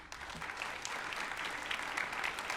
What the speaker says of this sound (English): giving them a round of applause for being here tonight